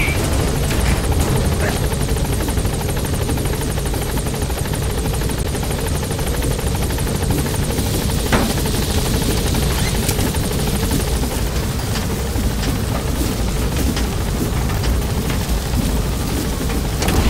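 A helicopter climbs away in Metal Gear Solid V, its loud, steady rotor thrum and whining engine filling the scene without a break.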